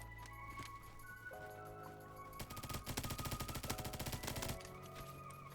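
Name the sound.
MP5 submachine gun fire in Roblox Bad Business, video game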